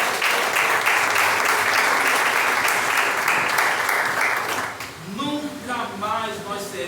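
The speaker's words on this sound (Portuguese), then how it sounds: "Você pode aplaudir aí ao Senhor?" A church congregation applauds for the Lord during a sermon, a dense, loud burst of clapping for about five seconds before it fades and a preacher's voice takes over.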